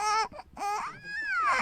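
A human voice imitates a newborn baby's cry, producing wavering, high-pitched wails in two close bursts with a brief catch between them, loud and unaccompanied.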